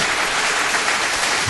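Loud, dense burst of canned studio applause, a continuous wash of many claps with no pauses, alone and close.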